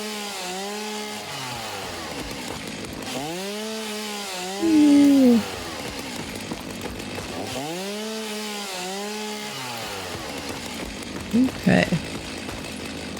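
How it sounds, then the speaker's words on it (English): A chainsaw cutting wood in Satisfactory revs in repeated rising and falling swoops, a loud steady buzz throughout, while a person briefly speaks over it. "it's just fun to use the chainsaw"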